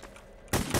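Gunfire in The Hidden video game: a sudden loud burst of shots cuts in halfway, with a second blast close behind, following a quieter stretch of ambient game sound.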